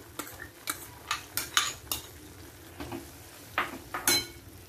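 Masala and a chili-coconut paste go into a hot pan for a traditional Malvani prawn and potato curry, giving a soft sizzle broken by a string of sharp spoon scrapes and clinks against the metal.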